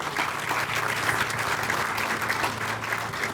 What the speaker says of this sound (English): I want y'all to please give them a round of applause